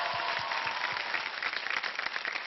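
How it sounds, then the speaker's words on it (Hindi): Audience applause fills a television talent-show stage, a dense, steady wash of clapping hands running throughout at moderate loudness with no talk over it. "जोरदार तालियां, कम ऑन।"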